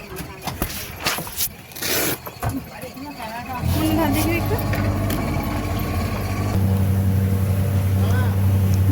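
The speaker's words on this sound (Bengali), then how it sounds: "আমাদের বোট ছেড়ে দিয়েছে" A motorboat sets off along a mangrove-lined river toward Bichitrapur; after a few seconds of voices and clatter, the engine kicks in with a loud, steady droning hum that holds and thickens to the end, with people talking over it.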